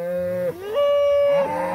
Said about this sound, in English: Oh, here they come, look at them. Just a whole line of cattle.